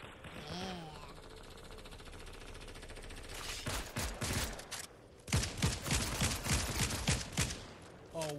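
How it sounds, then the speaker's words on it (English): Rapid bursts of machine gun fire in the video game Fortnite, loud and dense, arriving in long rattling volleys after a quieter opening with some voice and game sounds. "Machine gun fire? Why not? Right? Why not? I like machine gun fire."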